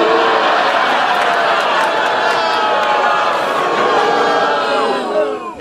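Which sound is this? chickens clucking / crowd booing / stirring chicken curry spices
crowd booing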